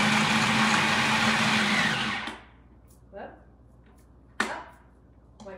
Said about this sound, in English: Okay, so we're gonna puree this.